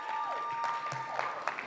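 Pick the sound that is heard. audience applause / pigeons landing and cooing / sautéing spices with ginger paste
audience applause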